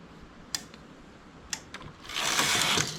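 A domestic knitting machine carriage sweeps a row to the left, beginning with a few sharp mechanical clicks and ending in a louder rushing slide of the carriage across the needle bed, close and without talk.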